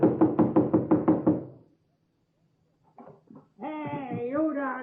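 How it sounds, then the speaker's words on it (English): Sharp rhythmic knocking and banging in an old radio drama, about seven quick loud raps close up, then silence before a voice begins speaking. "Knocking and banging, banging and knocking."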